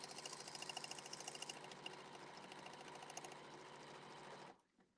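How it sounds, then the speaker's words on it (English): Sewing machine running steadily as it stitches a quarter-inch seam along the raw edges of a pillow, a dense rapid hum that cuts off near the end, with no talk over it. "So I'm just sewing right along all my raw edges and just kind of lining it up as I go."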